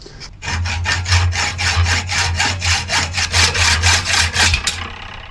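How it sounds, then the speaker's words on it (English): A hacksaw cutting off a damaged nut thread on a Land Rover 6x6 Perentie clutch master: a loud, steady run of about fifteen rhythmic rasping back-and-forth strokes close by, stopping abruptly, no speech. "Might grab my trusty hacksaw here and cut that off to get the thread out."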